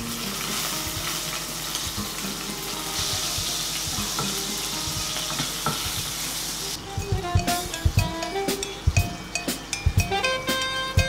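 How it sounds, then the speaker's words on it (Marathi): Loud steady sizzling of tomato frying in hot oil, then clinks and scraping of a spoon stirring in the pan, close by with no voices. "तेल गरम झालेलं आहे, यात आता आपण थोडासा टोमॅटो टाकूया फोडणीसाठी"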